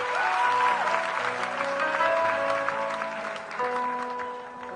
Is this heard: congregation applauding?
yes